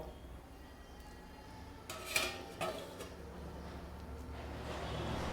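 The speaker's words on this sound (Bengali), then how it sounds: "এবারে আমি এইটা ঢাকা দিয়ে দেব।" A metal lid set onto a cooking pot of potato and poppy-seed curry, giving two quick clanks close by over a quiet kitchen background, with no talking.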